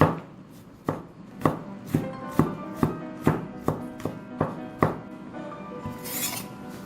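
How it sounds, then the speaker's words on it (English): Bruised garlic cloves are chopped into pieces with a knife on a board, about a dozen sharp close chops in a steady, slightly uneven rhythm, ending with a brief scrape. "Let's bruise them and cut them into pieces."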